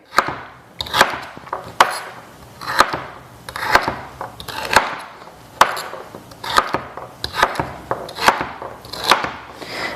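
Knife chopping a whole celery stalk into batons on a wooden board, a run of crisp, fairly regular chops close by, about a dozen sharp strikes with brief pauses between groups, no talking.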